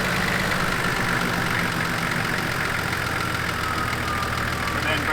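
A Nissan TD42 turbo diesel engine runs at a steady, loud idle with a rough, clattering knock, close up with no pauses.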